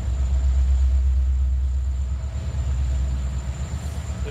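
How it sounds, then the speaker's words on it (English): A hopper train rolls into a rail yard, heard as a steady, heavy low rumble of wheels and cars that carries on without a break, with a faint high whine above it and no talking. "There goes a hopper train into the yard."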